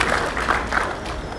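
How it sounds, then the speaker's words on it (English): Convention audience at an Efik national gathering in Houston applauding a group of youths, a loud, dense wash of clapping throughout. "Please, ladies and gentlemen, a round of applause for these youths."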